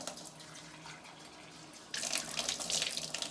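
Cold tap water runs steadily at a quiet level, then grows louder and splashier as it strikes the face.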